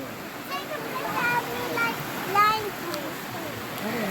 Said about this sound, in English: Look at the waterfall up there.